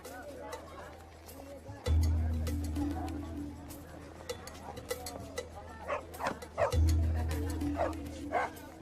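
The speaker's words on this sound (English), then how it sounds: "Village dogs." Village dogs, lowly mongrels in the Sundarbans, bark and yip repeatedly at a moderate distance, with a whimper among them, over a background of outdoor chatter and low rumble.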